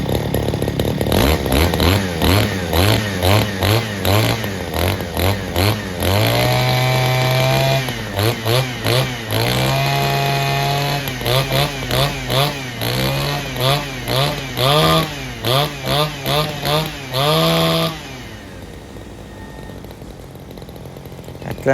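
A Robin NB411 brush cutter engine runs close and loud, revving repeatedly in sharp bursts with a rising and falling whine between idle dips, then dropping to a low idle near the end.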